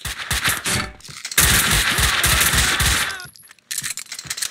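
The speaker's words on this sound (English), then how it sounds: "Someone must have heard the gunfire." Rapid gunfire in the video game Max Payne 2: loud bursts of repeated shots, a dense sustained volley in the middle, and a few more sharp shots after a brief pause.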